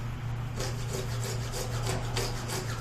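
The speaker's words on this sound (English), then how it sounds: "what I do is I make sure that I'm only sawing forward, back, using a nice even motion" A hand saw cuts through the wood of a Plains-Indian bow being made into a three-piece takedown, close and steady with even, rhythmic rasping back-and-forth strokes and no talking.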